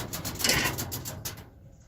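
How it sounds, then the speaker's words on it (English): A pigeon or dove coos from a shed roof, a soft, close, repeated call with a muffled rhythm, heard alone and fading toward the end. "there's a bird on top of my shed door"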